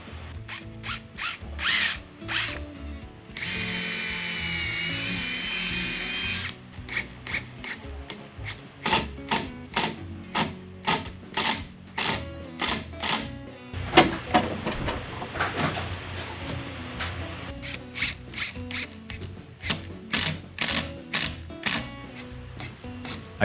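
Screws being driven into a wooden handrail from behind, with a power drill or driver firing in rapid short bursts, one longer steady high whine, then irregular clusters of quick pulses and clicks, close and moderately loud.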